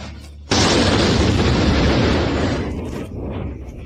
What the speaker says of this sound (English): Explosions in Moscow.